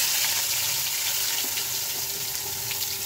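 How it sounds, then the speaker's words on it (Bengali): Young jackfruit pieces fry in hot oil in a wok, giving a steady, close crackling sizzle with no speech. "কড়াই গরম করে আমি তেল দিয়ে দিচ্ছি। আগে ইঁচড়টাকে একটু ভেজে নামাবো।"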